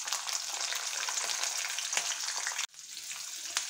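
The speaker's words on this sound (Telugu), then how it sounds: "కొంచెం రెడ్గా అయ్యేంత వరకు వేపాలి శనగపప్పు, మినపప్పు" Chana dal and urad dal fry in hot oil with a dense, bright, continuous sizzle, close and loud, dipping briefly before the crackle resumes; nobody speaks.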